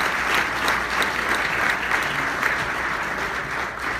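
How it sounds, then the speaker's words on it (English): Steady applause from an audience, dense even clapping that holds at a consistent level throughout with no voices over it. "they deserve a big round of applause as well."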